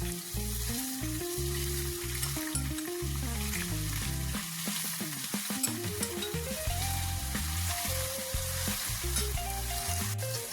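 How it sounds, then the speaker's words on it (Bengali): Chopped ash gourd fries with spices in a pan, a steady sizzle under a continuous layer of music, with occasional stirring scrapes. "এবার ধীরে ধীরে মশলার সাথে চাল কুমড়োগুলোকে ভাজতে শুরু করব"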